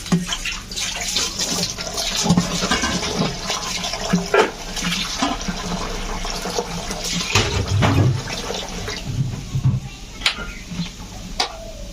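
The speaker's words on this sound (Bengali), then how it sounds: "পরিষ্কার করে ধুয়ে নেওয়া হলো" Cut eggplant and dried fish being washed by hand in water in a home kitchen: continuous splashing and sloshing with scattered knocks and drips, fairly close and steady throughout.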